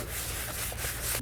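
Sponge rubber sanding blocks rub across a surface during cabinet painting prep, giving a brief, close, continuous rough scratching hiss.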